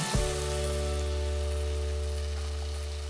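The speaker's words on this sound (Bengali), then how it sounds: "এখন আমি টমেটো কুচিগুলো দিয়ে দিচ্ছি, একটু নেড়ে দিচ্ছি" Chopped tomatoes hit a hot pan for spinach dal and sizzle loudly in a steady, unbroken hiss, with a low hum running beneath.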